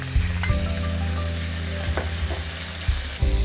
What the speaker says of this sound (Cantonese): 首先我哋炸下啲鹹魚先